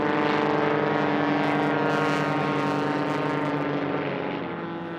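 A white Rans S7 light aircraft, the lightest in the field, races in a STOL drag race at the National Championship Air Races, its propeller engine droning loud and steady throughout, easing slightly toward the end.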